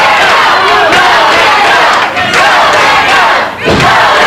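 A wrestling studio crowd cheers and yells loudly for the King, a dense, sustained roar of voices with brief dips before surging again.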